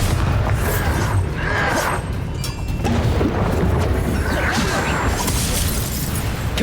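A Bombarda blasting spell explodes in the video game Hogwarts Legacy, a loud, dense booming roar with crashing bursts that fills the whole stretch without letup.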